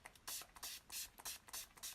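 Makeup setting spray hisses out in several short bursts, quiet and close, some puffs closely paired and others more spaced, with no talking.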